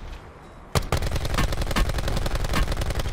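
Gunfire in a Call of Duty Black Ops 4 Blackout match bursts in suddenly after a quiet moment, then continues as rapid, loud repeated shots in a sustained automatic stream.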